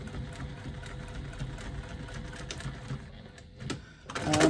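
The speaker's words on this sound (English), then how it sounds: "I've got a size 16 needle in the machine now because we're going through quite a lot more layers" A sewing machine fitted with a size 16 needle stitches through several layers of faux leather and foam while making strap connectors, giving a steady, close mechanical whir and rattle that swells louder near the end.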